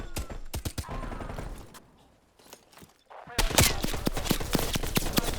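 Rapid bursts of gunfire in Call of Duty: Black Ops Cold War, loud volleys that pause briefly in the middle before heavy shooting resumes, with mechanical clicks in between.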